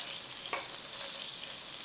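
Butter sizzling in the same pan that was used for the chicken as the sauce is started, a faint, steady low crackle with a brief scrape near the end.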